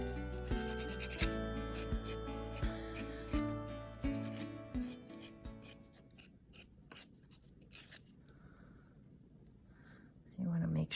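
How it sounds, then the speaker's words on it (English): Sandpaper or an emery board rubbing the end of a metal ear wire, a close, steady scratchy rasp of short strokes heard under a speaking voice and faint music, thinning out later with a brief louder scrape at the end. "I'm gonna take some sandpaper, emery board, whatever you have."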